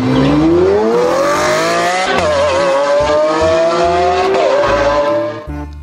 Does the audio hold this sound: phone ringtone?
no